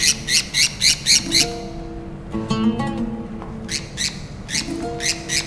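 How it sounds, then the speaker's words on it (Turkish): Caged birds squawk in loud, rhythmic bursts close by, with a stretch of twittering chirps in the middle before the squawking returns. "Bu kuşları kafese koyan da benim. Onları hür kılan da benim."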